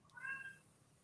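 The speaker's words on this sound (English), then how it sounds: "stop that cat from crying" A pet cat gives a single short meow indoors, faint and brief, with no talk over it.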